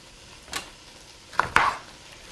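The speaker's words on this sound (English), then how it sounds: "So I have my red pepper here. Let me just go ahead and slice it" A knife slices a red pepper into long strips on a cutting board: one sharp cut, then a quick pair of crisp chops close by with quiet pauses between.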